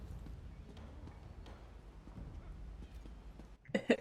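Faint, rhythmic hoofbeats of a sprinting horse in the video game Elder Scrolls Online patter along at low volume, then a short burst of voice cuts in at the very end.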